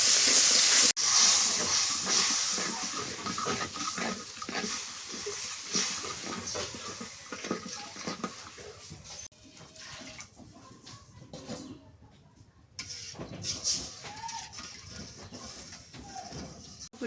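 Curry of onion paste, garlic paste and turmeric boils hard in a pot before hilsa fish go in, giving a loud, steady hiss and bubbling sizzle that eases slightly partway through, with no talk.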